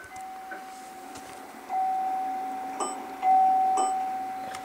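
Elevator arrival bell in the SkyscraperSim game at a TV tower terrace with Otis Series 5 fixtures: a thin, soft steady chime tone rising twice in loudness over a quiet hum, with a few faint dings.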